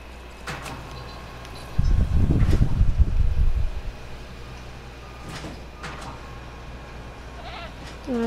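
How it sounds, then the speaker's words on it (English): Goats in the Jurassic World Evolution game bleat several times, short wavering calls scattered over a low ambient hum, along with a brief loud rumbling scrape near the start. "You could walk in and you could see the goats up in person."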